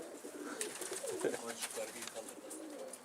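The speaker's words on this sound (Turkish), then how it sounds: "Horoz güvercini." Soft, low cooing of a pouter pigeon repeats through the clip over a busy background of rustling and faint chatter, fairly close.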